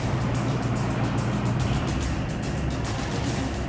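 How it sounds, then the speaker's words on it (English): A barge's engines run at full power to hold the vessel steady for a truck driving aboard, giving a loud, constant low roar with a steady wash of churning noise throughout. "To hold the barge in place, the skipper pushes his engines to full power."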